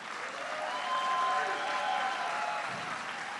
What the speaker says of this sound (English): Greg Lancette, and a round of applause again for Shawnee Davis,